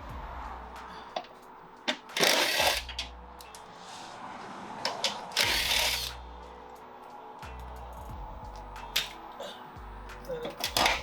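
Power drill backing out 10 mm bolts from the underside of a 2015–2019 Subaru Outback front bumper, several short bursts of whirring with quiet handling noises and clicks between them.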